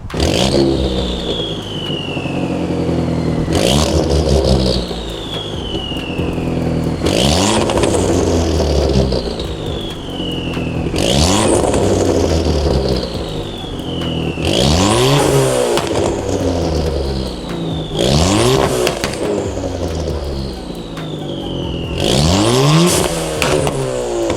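A small turbo four-cylinder car engine with a V3 downpipe exhaust revs hard again and again, rising to a raspy turbo roar and dropping back with crackles, loud and close.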